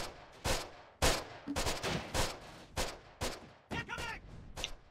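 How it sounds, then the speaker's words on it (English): Gunfire aimed at infantry in the video game Close Combat comes as a string of sharp single shots and short bursts at uneven intervals, fairly loud, with faint background noise between them. "our infantry are taking a little bit of fire"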